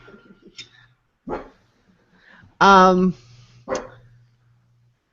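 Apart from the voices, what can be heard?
dog barking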